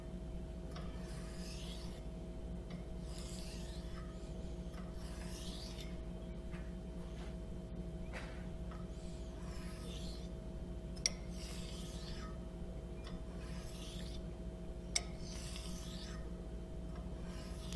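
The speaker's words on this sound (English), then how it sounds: "Now I'm laying the razor flat on the hone and setting the bevel for the first time." A straight razor laid flat on a coarse diamond hone to set the bevel, giving a steady, continuous rasping scrape that runs without pause, close and fairly loud over a low background hum.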